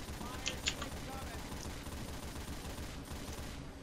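A mounted machine gun in Left 4 Dead 2 fires a quiet, continuous stream of rapid shots, with a few sharp clicks near the start.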